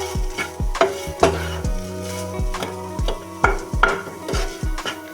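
A spoon stirs fennel, cumin and a masala mix in a hot pan for samosa filling, making repeated metallic scrapes and clinks in an uneven rhythm over a light sizzle, loud and close, with no voices.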